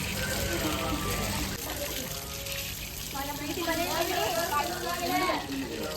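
Water runs and splashes continuously as feet are washed barefoot before a temple stair climb, a close trickling wash with someone talking over it.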